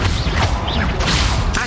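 Spell-casting effects from the video game Hogwarts Legacy, a fire-blast curse: dense whooshing bursts and crackling impacts layered over game noise, with brief rising tonal swishes, fairly loud and continuous across the short stretch.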